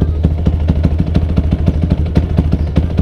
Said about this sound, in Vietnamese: Đây là tiếng đô và đây là tiếng giọng nồi.